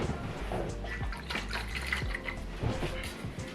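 Water being fetched and handled for a drink indoors, with a few soft drips and liquid pours over a dense background hum, no talking.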